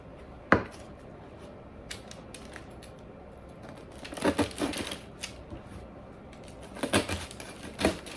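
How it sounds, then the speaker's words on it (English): A serrated bread knife sawing down through a loaf of bread in a home kitchen, heard as scattered crisp crunchy bursts, a sharp one near the start and clusters later, separated by quiet room tone. "I'll use that to cut down through the bread."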